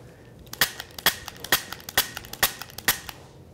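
Rapid series of about ten sharp gunshots fired while moving between cover, evenly spaced cracks roughly every half second, loud and close with short decays and no talk.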